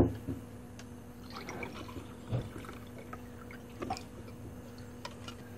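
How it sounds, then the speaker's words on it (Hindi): Lemon water is poured into a glass, producing a faint, steady trickle with a few soft drips and light taps close by. "नींबू पानी को भी हम ग्लास में डाल लेंगे।"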